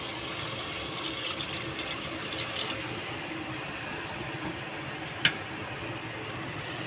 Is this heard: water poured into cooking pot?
yes